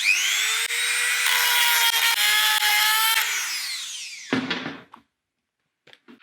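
A Dremel grinds a flat onto the round end of a light stand with a close, loud, steady high whine for about four seconds. The tool then lifts off, the pitch winds down to silence, and a few faint clicks follow.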